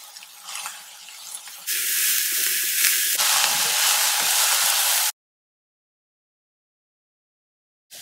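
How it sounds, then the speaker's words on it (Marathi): Colocasia (alu) leaf vegetable being sautéed in a pan, first a soft stirring, then a loud steady sizzle and hiss that cuts off abruptly into silence. "तर हे आपण थोडं परतून घेऊया।"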